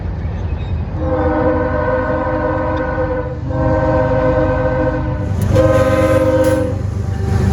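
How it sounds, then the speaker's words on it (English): A long freight train passes on the W&A and Etowah subdivisions with a loud sustained horn sounding in repeated long blasts over a heavy rolling rumble of wheels and cars, close by. "there's another train on track 2. That's the Wyvern Yard local"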